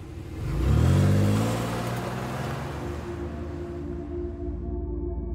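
A car engine restarts after stalling from overheating, rising in a brief loud rev before it settles into a steady mid-pitched idle hum that continues evenly to the end.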